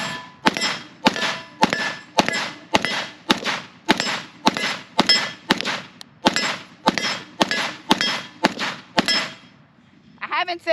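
Draco Mini AK-47 rounds strike a steel target in a steady series of about twenty sharp metallic clangs with gunshot cracks, evenly spaced at close range, then a brief pause before another shot starts.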